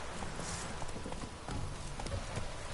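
Roach the horse gallops in The Witcher 3 video game, a steady stream of clip-clop hoofbeats under dense, noisy game ambience and music.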